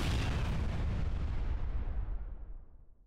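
A grenade detonates in the sci-fi video game Space Station 14: one loud, broad boom that rumbles and fades away over a few seconds, with no voices.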